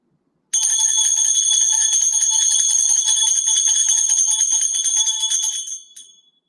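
A village church bell rings loud and alone after a short silence. It keeps up a fast, steady metallic ringing with strong overtones for about five seconds, then cuts off and fades.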